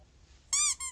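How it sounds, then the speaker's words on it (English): Short, sharp high-pitched squeak from a follower character in the game Amanda the Adventurer, two quick bursts close and loud after near silence. "The follower squeak scared the shit out of me."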